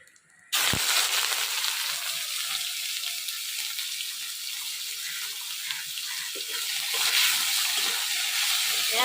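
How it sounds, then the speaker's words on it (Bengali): Whole cumin, cardamom and red chilli crackle and splutter in hot oil in a pan, a dense, steady sizzle right after a sharp drop-in crack, close and loud throughout with no talking. "এলাচটা ফুটলো এরম ভাবে।"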